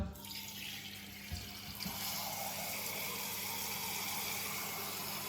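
Water is poured into a turkey roasting pan in a home kitchen, a continuous close splashing stream that starts after a couple of soft knocks and runs steadily to the end.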